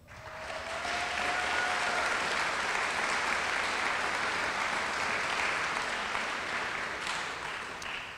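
An audience at a middle school awards night applauds steadily for about eight seconds, with dense, even clapping from a large crowd heard from a moderate distance.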